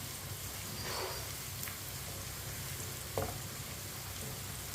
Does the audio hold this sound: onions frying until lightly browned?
yes